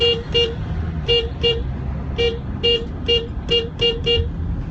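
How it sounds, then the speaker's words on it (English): Car horn honks in short repeated bursts, some single and some paired, over steady road and engine noise from a moving vehicle. "So, we'll honk for Bernie."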